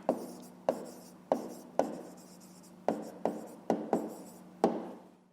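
A pen writes an answer by hand on paper in a quiet room, nine short scratchy strokes coming in uneven bursts, close and soft.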